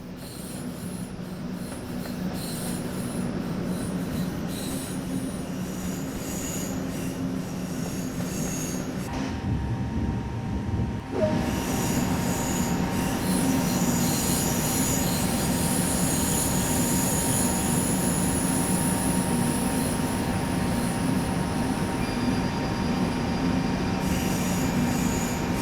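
High-speed train running on the LGV Méditerranée line in Train Sim World 2, with a steady loud rolling rumble, a continuous wheel hum and tonal whine, and a brief shift in the noise partway through.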